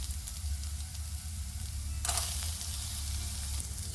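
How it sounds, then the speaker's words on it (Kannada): Urad dal, chana dal, cumin and onion fry in a pan with a steady close sizzle, and a short brighter hiss flares up midway as the mixture is stirred. "ಇಷ್ಟು ಫ್ರೈ ಮಾಡ್ಕೊಳ್ಳಿ."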